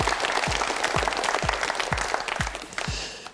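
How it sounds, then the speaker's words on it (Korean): A small game show studio audience claps together in a quick, even rhythm of distinct beats, close by, tapering off at the end. "박수 주세요."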